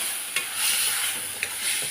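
Green field beans and masala sauté in a pan over low heat, giving a steady close sizzle broken by a few sharp scrapes of a spoon stirring against the pan.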